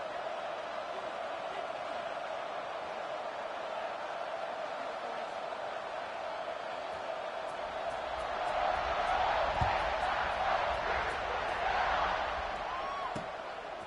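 A college football stadium crowd at a Duke versus Ohio State game makes a steady, distant roar that swells into louder cheering partway through, with faint thuds in the mix.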